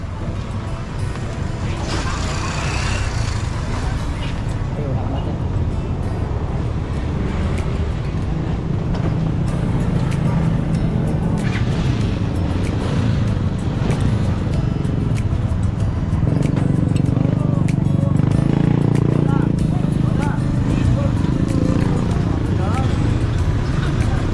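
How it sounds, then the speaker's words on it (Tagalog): A motorized tricycle engine drones steadily from on board during a ride, a rough continuous rumble with road noise, and people talk over it throughout. "Tricycle."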